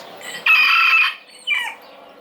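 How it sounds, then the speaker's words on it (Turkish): A nearby rooster crows loudly in a drawn-out call, followed by a shorter, falling cry from the fowl. "Tavuklar burada. Var. Tavuklar."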